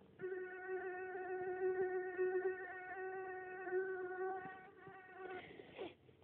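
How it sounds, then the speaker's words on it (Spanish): A single mosquito whines steadily and close for about six seconds, a thin, high, even buzz with a slight wavering pitch, heard alone with no talking. "También tenemos el sonido de un mosquito, ¿ya? Como el que están escuchando ahora."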